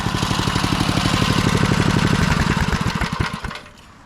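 A 1991 DR field and brush mower engine runs steadily with a loud, fast, close putter, then cuts out and fades near the end.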